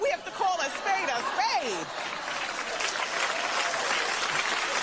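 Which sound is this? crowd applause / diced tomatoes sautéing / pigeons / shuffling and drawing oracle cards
crowd applause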